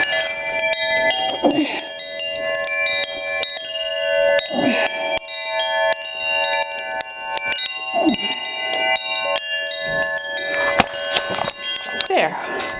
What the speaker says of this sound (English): And now perhaps I can hang these chimes